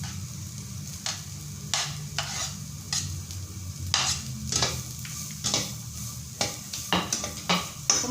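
Carrots frying in a pan with a little oil, with a soft steady sizzle under repeated sharp scrapes and clinks of a spatula stirring against the pan, close up and without talk.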